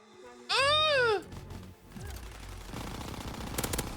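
Gunfire from Call of Duty: World War II during an online match, with rapid bursts of shots under constant game noise and a brief loud bleating sound early on.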